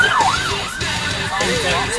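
A police car siren wails loud and close on a UK road, its sweeping rising and falling tone running throughout over traffic rumble, with no talk.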